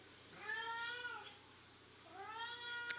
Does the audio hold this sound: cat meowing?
yes